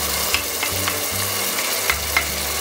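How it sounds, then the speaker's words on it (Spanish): Crushed tomato sizzles in hot olive oil for a chickpea, spinach and salt cod stew, a steady close frying crackle with low bubbling and a few sharp pops. "¿Cómo suena el contraste de los líquidos con el aceite, eh?"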